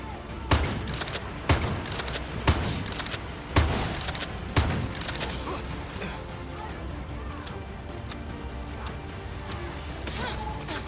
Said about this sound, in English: Oh, it's an automated fucking turret.